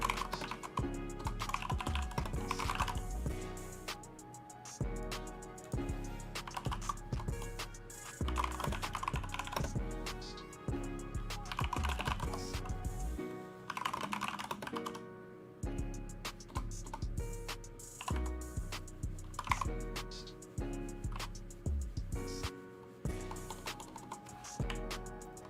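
Rapid clacking of a computer keyboard, keys struck in quick bursts with short pauses, close and clear with no voices.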